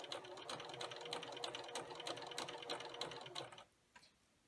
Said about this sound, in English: Now I like to do a little bit of a back stitch just to make sure that it holds everything in place, and then start to stitch.